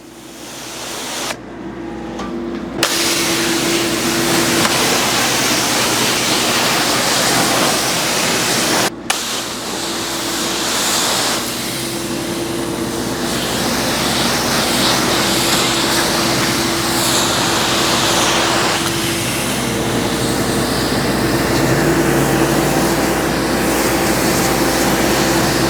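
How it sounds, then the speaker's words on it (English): Dual-lance pressure washer rinsing, a steady broadband hiss of water spray that holds loud and unbroken for about 25 seconds, with a brief break near the start and a faint click partway through. "See how I can control the water when I'm rinsing?"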